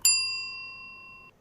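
A single clear notification bell ding rings out bright and close, then fades smoothly over about a second, with no other sound.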